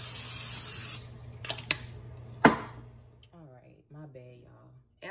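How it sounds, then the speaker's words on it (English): A short hiss of spray at the start, followed by a few clicks and a sharp tap, then a person talking briefly. "Put some pan spray or grease your pan"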